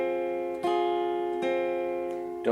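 Opening chord of a rock song strummed on guitar, sustained and rich, with a couple of fresh strums repeating the same chord alone and close.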